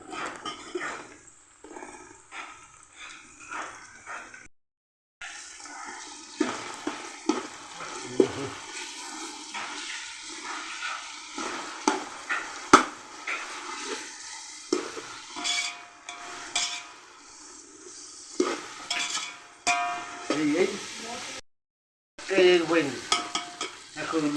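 Chopped tomatoes frying and being stirred in a pan for chicken biryani, with a steady sizzle broken by repeated scraping stir strokes and a couple of short pauses.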